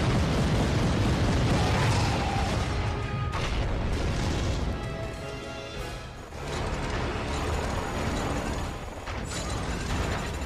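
Giant cannons fire in the video game Pacific Rim: heavy booming blasts and rumbling explosions roll continuously with mechanical clatter, loud and dense throughout.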